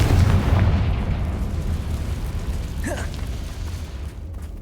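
A fiery Confringo spell explosion in the game Hogwarts Legacy bursts at the start as a loud, deep boom, then rumbles on as a long low roar, with a faint whooshing streak midway.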